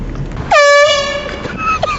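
One loud blast of an air horn, a brassy blaring honk lasting about half a second and tailing off, set against outdoor background noise and voices.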